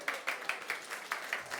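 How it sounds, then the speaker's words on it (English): A small studio audience claps in a quick, even rhythm of single sharp claps, eight or so in under two seconds, welcoming a co-host back. The sound is fairly quiet and close. "Round of applause for Damian Christie."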